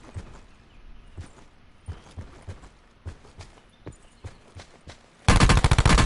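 Scattered single gunshots from a solo battle royale video game match crack at irregular intervals, then a loud, rapid burst of automatic fire erupts at the end.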